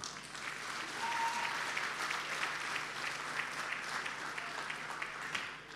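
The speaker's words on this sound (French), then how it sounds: "Je voudrais particulièrement que vous leur fassiez une salve d'applaudissements" Audience applause at a Miss RDCongo grand finale pageant, sustained clapping from a large crowd throughout, fairly distant and even in level, with no speech over it.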